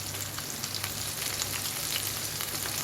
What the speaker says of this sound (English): Just gonna add some amount of them to the oil for the frying.